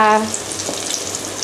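Battered vegetables and corn deep fry as oil bubbles and sizzles steadily, a dense crackling hiss after a brief tonal clatter at the start.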